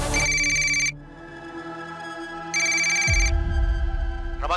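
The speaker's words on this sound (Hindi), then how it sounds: "अब रमाकांत को फोन कीजिए साहब प्लीज।" A telephone rings with a bright electronic ringtone in repeating bursts, a sustained tone between them and a low thump partway through. It is loud and close, with no talk over it.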